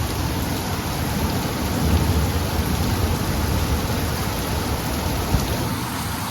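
Heavy, steady rain falls in Leakey, Texas, a dense unbroken wash of downpour with a faint low rumble of thunder, close and continuous with no talking.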